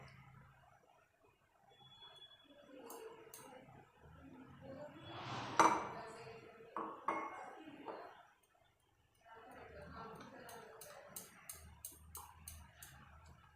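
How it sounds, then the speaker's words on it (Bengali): A spoon clinks and taps against a bowl while gram flour batter is whisked with water, making irregular bursts of scraping and ticking knocks. The sounds are close and fairly quiet, with a short pause in the middle. "এখানে একটু জল দিয়ে ভালো করে গুলে নেব বেসনটাকে।"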